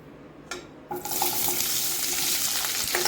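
Chopped onion dropped into a hot kadai for egg curry, giving a sudden hiss that rises into a steady, close, loud sizzle, with the clink of stirring along the way.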